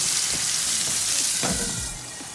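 A steak sizzles hard in a hot cast iron pan right after being flipped, a loud, steady close-up frying hiss with small crackles and no voices.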